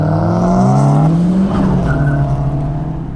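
A 1.8T VW Mk2 with a full 63mm exhaust system revs hard, its loud, close engine note climbing and holding in a strained tone for about three seconds with no talking.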